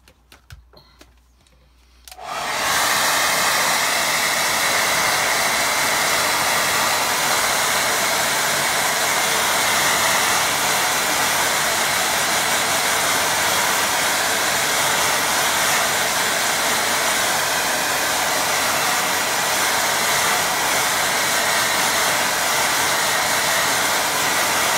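Hair dryer switched on after a couple of quiet seconds to dry a watercolour painting, then a loud, constant rushing roar that holds steady to the end without speech.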